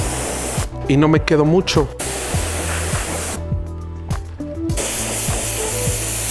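Spray gun hisses steadily while applying polyurethane to an electric guitar body, with a few brief pauses in the spray; someone talks over parts of it.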